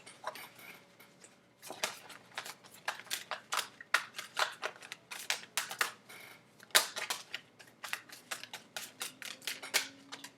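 A deck of tarot cards is shuffled in rapid, irregular bursts of crisp slapping and riffling, close and fairly quiet, with short pauses between clusters.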